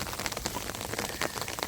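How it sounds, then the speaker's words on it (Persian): Steady rain falls outdoors during a flood, a dense, even patter of drops on surfaces with scattered sharper splashes throughout, fairly close and with no voices. "بارون خیسش میکنه اینجا"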